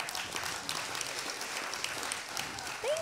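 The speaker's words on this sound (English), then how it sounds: "one more round of applause for Angel Travis" Quiet, distant applause from a church congregation for Angel Travis, soft scattered clapping lasting about three seconds, ending as a voice begins to speak.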